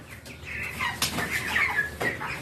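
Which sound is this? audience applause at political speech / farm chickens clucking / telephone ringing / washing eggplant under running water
farm chickens clucking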